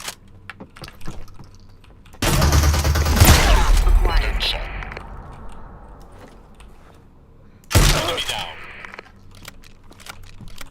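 Rapid auto shotgun bursts in the video game Super People 2: a dense, loud barrage of blasts for about three seconds that tails off, then a second sharp burst later, with faint clicks in between.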